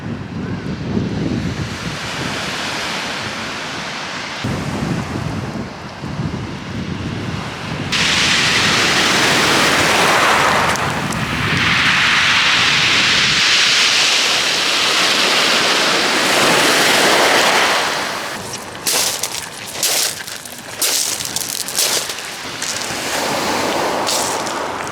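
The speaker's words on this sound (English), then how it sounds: "Whoa, look at those waves." Sea waves surge and break along the shore at Minnis Bay on the Kent coast, a loud roaring wash that swells and recedes in repeated surges, with gusts of wind buffeting the microphone and no voices.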